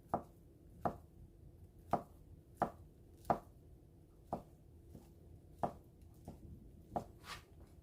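A knife cuts thin Korean egg garnish (jidan) on a cutting board for stone-pot bibimbap, about a dozen crisp, evenly spaced taps against the board in a quiet room.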